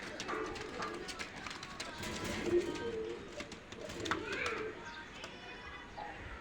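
Pakistani teddy pigeons cooing softly in a loft, low murmuring coos repeating under faint background chatter and rustling, fairly quiet overall.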